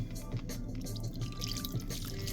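Liquid pours into a bowl of Taiban Yihao Pan Mee spicy-flavor instant noodles, a continuous close splashing trickle with dripping and gurgling throughout.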